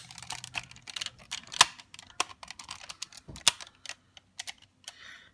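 Plastic wing sections of a Pteraiden-Oh toy being folded in and snapped shut, a series of sharp, irregular clicks and taps, close and fairly quiet.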